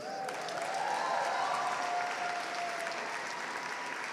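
A crowd at a State House rally breaks into sustained applause, a broad even wash of clapping heard from some distance, with a faint tonal whistle or cheer drifting over it.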